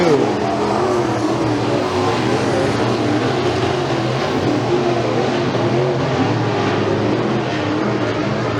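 Race cars roar around the McKean County Raceway dirt oval during heat races, a steady dense engine drone at moderate loudness with a commentator talking over it throughout.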